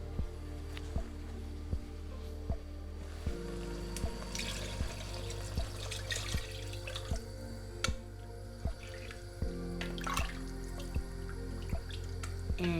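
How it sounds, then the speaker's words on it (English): Water is poured into a pot of tomato sauce with tomato paste and tomatoes for meatballs, giving a light trickling, dripping splash over a steady low kitchen hum, with soft repeated clicks throughout and no talking. "Now you can add your water."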